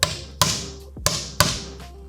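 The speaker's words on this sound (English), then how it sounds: "Go ahead and knock that hole out." A belt-slot hole is knocked out of leather while a holster is made: four sharp, hard taps in an uneven pair-by-pair rhythm, close and distinct, each with a short ringing decay.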